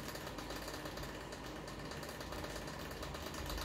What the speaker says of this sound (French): j'ai mis le ventilo un peu